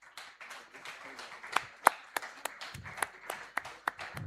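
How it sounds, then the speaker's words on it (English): Scattered, uneven claps and taps from an audience at an installation ceremony in Goa, a handful of sharper individual claps standing out against a soft, thin background for a few seconds. "Can we have a round of applause again?"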